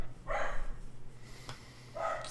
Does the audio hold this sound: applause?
no